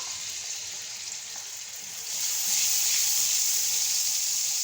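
Leftover masala marinade from a rabbit is poured into hot oil and sizzles with a steady bright hiss that swells louder partway through and keeps frying alone.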